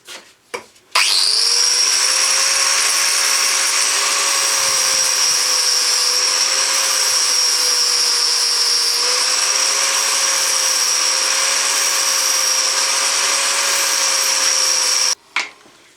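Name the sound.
grinding disc cleaning a burr off a metal bash plate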